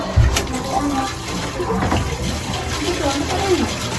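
Water splashes from a bucket during a bath, loud close gushing and sloshing under people talking.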